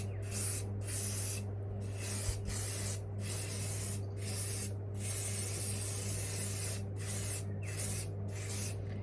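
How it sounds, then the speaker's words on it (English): Hairspray hisses onto hair in a string of short aerosol bursts, close and fairly loud, separated by brief gaps, over a constant low background hum. "with the little hairspray I got left"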